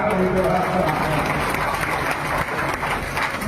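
Dense, loud applause from a large crowd at an NDA political rally in Taraiya assembly constituency, sustained steadily throughout without a break.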